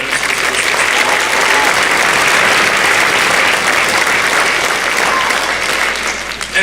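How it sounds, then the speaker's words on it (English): At a 5th and 6th grade holiday school concert, the audience breaks into loud, sustained applause for the music boosters club, dense clapping holding steady for several seconds before tapering slightly at the end. "So a big round of applause for the Independence Music Boosters."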